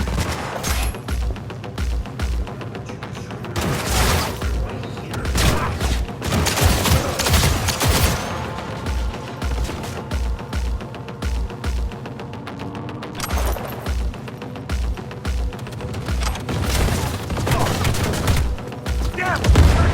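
Bursts of rapid gunfire and automatic volleys crackle through a Cyberpunk 2077 firefight, loud clusters of shots repeating in waves with short gaps, alongside game voices.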